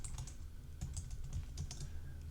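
Someone types a preset name on a computer keyboard in Lightroom, giving quick, irregular clusters of light key clicks over a low steady background hum, with no speech.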